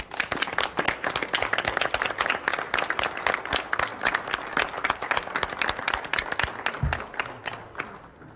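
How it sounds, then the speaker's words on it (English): Sustained applause for school district employees at a board of education meeting, dense steady clapping from a room full of people that carries on for several seconds with no voices. "Let's give all our employees a big round of applause."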